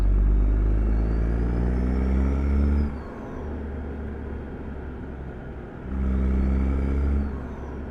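A Peterbilt 389 truck engine in American Truck Simulator rumbles steadily near a marina, deep and loud, easing off to a lower idle for a few seconds before pulling strongly again.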